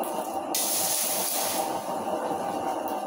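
Cold water poured onto a fire, a loud close hiss of steam that surges at about half a second and runs steadily under a broad noisy roar.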